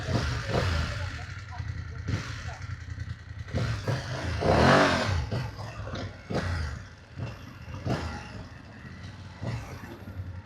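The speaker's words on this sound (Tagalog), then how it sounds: "Grabe. Nagwa-wild yung motor." Motorcycle engine during a ride, rumbling and revving under steady wind and road noise, with clattering and someone talking over it, and one louder surge midway.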